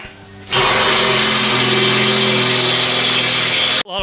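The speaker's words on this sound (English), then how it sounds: "this steel, we're just drilling this." A power tool bores into a steel beam during a house extension roof build, a loud continuous grinding whine that holds steady for over three seconds before cutting off abruptly.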